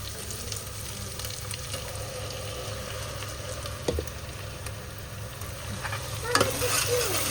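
Tomato masala frying and being stirred in a pan for biryani, a steady close sizzle with scraping stir strokes and a brief louder clatter near the end, with no talking.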